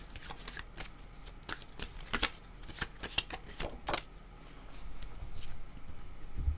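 A deck of cards is shuffled repeatedly, with crisp riffling snaps and flutters in quick bursts, close and clear with no talking.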